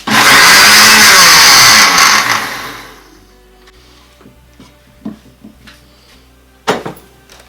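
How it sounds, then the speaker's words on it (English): A blender whirs loudly at close range for about two seconds while blending raw vegan pumpkin soup, then winds down and stops, followed by a few faint knocks and clatters. "And just give it another shake in the blender for just another second or so."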